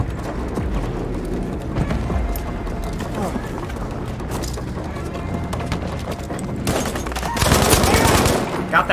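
Rapid bursts of gunfire in the Battlefield V video game, steady volleys with mechanical clatter that swell louder near the end, while a player talks over them.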